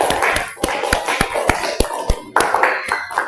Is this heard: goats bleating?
no